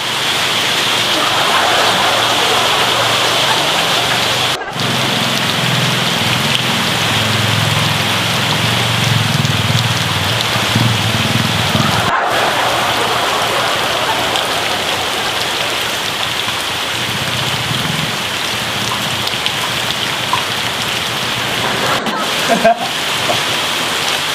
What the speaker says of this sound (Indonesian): Hujan lo